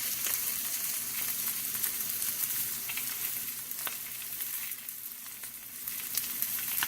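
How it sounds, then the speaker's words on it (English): Marinated pork chops sizzle and fry in a very hot cast iron skillet, a steady, dense crackle and hiss with small pops, close and continuous throughout, with no one talking. "get your cast iron skillet really hot"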